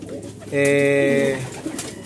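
A racing pigeon gives one sustained, near coo lasting about a second at a hot arrival loft in Balaoan, La Union, after the second lap of a BBCM race. Quieter background noise surrounds it.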